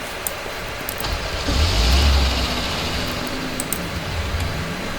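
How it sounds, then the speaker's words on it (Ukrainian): A car engine in the driving game Dusty Trip revs up once over steady low engine drone, a muffled mid-level surge that rises and fades within a couple of seconds. "Нарешті газує."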